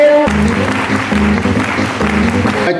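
An audience bursts into loud, dense applause, with clapping sustained and even throughout and a few voices mixed in.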